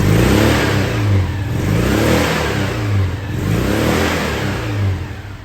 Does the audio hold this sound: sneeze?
no